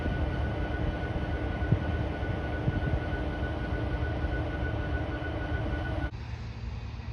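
A Union Pacific freight train led by SD70ACE and AC44CW locomotives passes at a distance, a steady, moderate rumble of rolling wagons with a faint tonal hum, easing slightly near the end.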